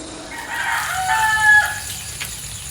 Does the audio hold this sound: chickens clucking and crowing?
yes